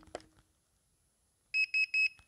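A waterproof metal detector pinpointer, used to find metal in old timber, gives three short, loud, evenly spaced beeps after a brief handling clatter and a quiet pause.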